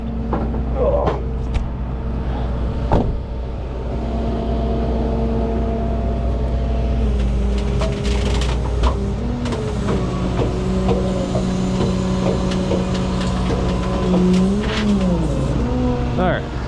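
A truck's engine idles and pulls ahead to drive off, a steady low rumble with slight revving that carries on throughout, while people talk over it.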